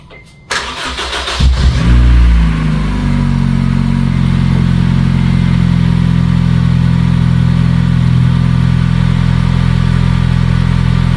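A 2006-2011 Honda Civic engine cranks briefly, catches and settles into a loud, steady idle close by, just after heater core and A/C evaporator work.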